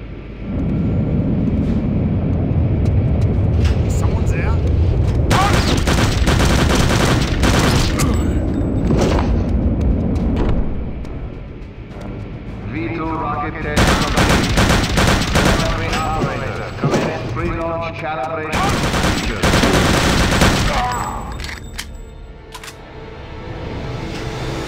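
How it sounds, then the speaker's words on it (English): Rocket test launch in Return to Castle Wolfenstein, heard as loud roaring blasts and booming bursts in several waves with crackling, gunfire-like bangs and heavy rumble across the clip. "V2 rocket test commence in 5, 4, 3,"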